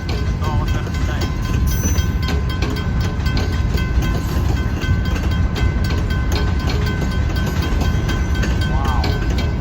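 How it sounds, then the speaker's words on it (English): A long northbound Ann Arbor Railroad grain train rolls past a State Street crossing, its cars rumbling and clattering loudly and continuously at close range, with faint squeals of wheels. "This is one long train."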